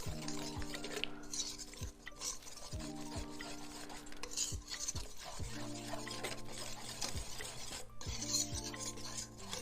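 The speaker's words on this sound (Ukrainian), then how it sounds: "Все перемішую до однорідності." Steady scraping and rubbing of a spoon stirring a thick dough mixture of sugar and flour in a bowl, continuous and close, with background music underneath.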